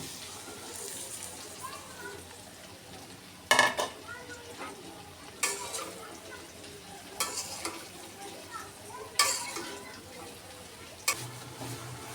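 Spring onion leaves fry with dried fish in a pan, a quiet continuous sizzle broken by several sharp stirring clatters spaced a couple of seconds apart.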